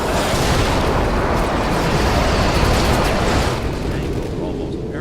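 A Predator missile strike in a multiplayer shooter video game, a loud, sustained roaring blast of broad rumbling noise that holds for several seconds before easing off slightly, with game sounds mixed in.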